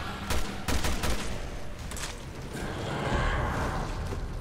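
Gunfire crackles in Resident Evil Revelations 2, a burst of several loud shots in quick succession early on, then scattered fainter reports over a rushing, noisy game backdrop.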